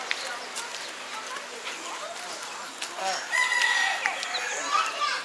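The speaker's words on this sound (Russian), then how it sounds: "Вон цыплята маленькие" Chickens and small chicks in a park on Mauritius give soft clucks and thin peeping calls amid outdoor bird chatter, with people talking nearby.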